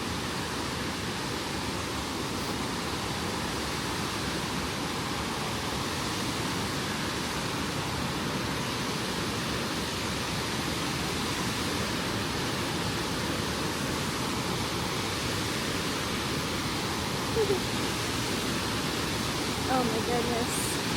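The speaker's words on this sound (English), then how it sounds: "the falls are pretty loud" Blackwater Falls in a West Virginia state park roars as a steady, loud, broadband rush of falling water, continuous and unbroken from start to finish.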